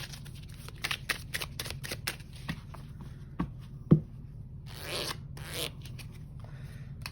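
Tarot cards shuffled and riffled close by, a run of soft, quick flutters and snaps with an occasional louder slap, then a longer papery rustle near the end, with no talking.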